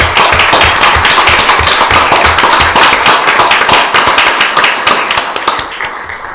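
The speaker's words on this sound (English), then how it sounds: "How about one more round of applause for all these outstanding employees?" A room of people at a county board meeting applauding county employees, a dense, loud burst of clapping that holds steady and then begins to thin toward the end.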